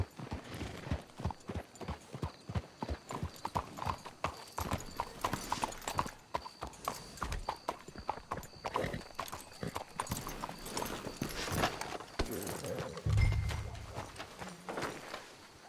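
Steady clip-clop of horse hooves walking in Red Dead Redemption 2, a dense repeating rhythm close by, with faint game ambience and a brief low rumble near the end.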